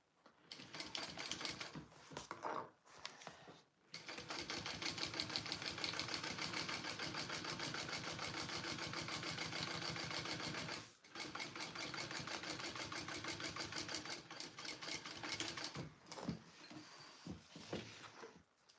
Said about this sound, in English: I am top stitching through my bottom panel